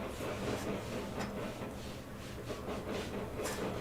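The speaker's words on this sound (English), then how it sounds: "this is the eastbound move, and this is a solid auto rack train" An eastbound freight train made up entirely of auto rack cars rolls past steadily, a continuous loud rumble with faint rhythmic clatter and hiss throughout, no voices present.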